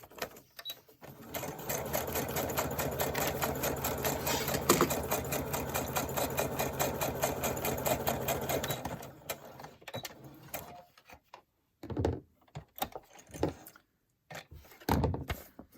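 A sewing machine stitches a paper pocket for a junk journal, a steady, fast mechanical chatter lasting about eight seconds before stopping, followed by scattered handling rustles and a couple of short bursts.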